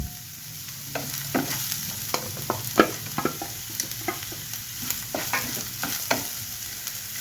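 Onions and garlic frying in oil in a pan, a continuous soft sizzle broken by frequent sharp scrapes and taps of a spatula stirring at an irregular pace, close up with no talking.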